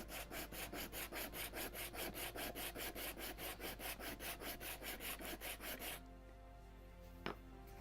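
Steady rhythmic rubbing of sandpaper on a block over wood, about four strokes per second, close and fairly quiet, stopping near the end with a single small knock afterward.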